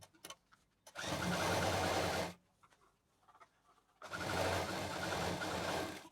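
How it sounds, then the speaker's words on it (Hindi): A sewing machine stitches a patchwork fabric shopping bag in two loud, steady whirring runs of about a second and a half each, separated by quiet pauses with light handling noises. "यहाँ डबल मशीन चला देंगे।"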